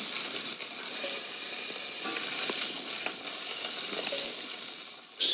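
Pork sizzles steadily in a hot pan, with a loud, continuous frying crackle and hiss that runs close and unbroken throughout, with no voices.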